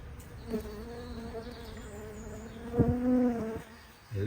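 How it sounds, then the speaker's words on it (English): Guard bees pour out of a disturbed, collapsing honeybee colony's hive, a close droning buzz with several overlapping wingbeat tones that rise and swell near the end. "All the guard bees will come rushing out."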